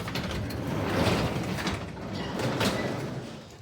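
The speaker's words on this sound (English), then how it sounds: "open this garage up." A garage door grinds and rattles open for about four seconds, its mechanism whirring with a ratcheting, gear-driven hum that swells and dips, nearby and fairly loud with no talking.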